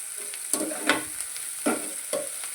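Tomatoes sauté in a pan for bread upma under a constant soft sizzle, broken by several distinct stirring scrapes and clacks of a spoon in the pan, heard close and without talk.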